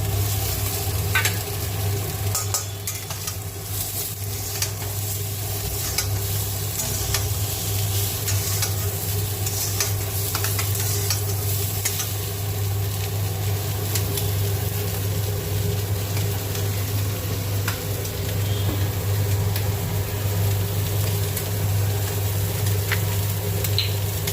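Bitter gourd and fish frying in oil with chilli, turmeric, salt and sugar, a steady, close sizzle that holds without a break, with occasional stirring scrapes and a low constant hum underneath.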